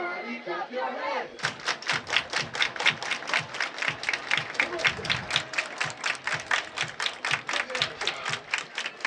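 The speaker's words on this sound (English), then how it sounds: "Everybody clap your hands." A crowd at a high school football game between Pleasant Grove and Westlake claps in a steady, unified rhythm, loud and sustained, after a brief stretch of talk.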